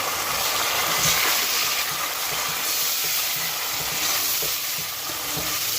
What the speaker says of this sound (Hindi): अब हम इसमें जो 3 टमाटर हमने लिए थे वो हम इसमें ऐड कर रहे हैं।